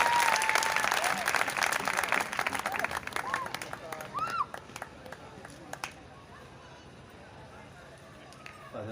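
An audience in a church applauds to welcome a priest, loud dense clapping for about four seconds that thins out and fades to scattered claps and quiet room noise with faint voices.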